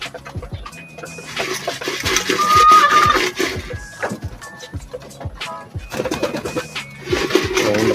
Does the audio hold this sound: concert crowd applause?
no